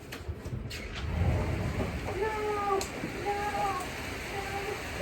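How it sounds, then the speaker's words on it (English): Rain beginning to fall outdoors, a steady hiss and patter of drops throughout, with a muffled voice speaking underneath and some faint tonal background noise. "it's starting to rain"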